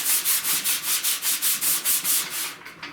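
Sandpaper worked by hand over rust on a car's lower fender, a close, loud, steady run of about a dozen even back-and-forth strokes that trails off at the end.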